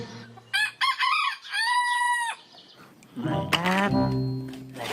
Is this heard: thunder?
no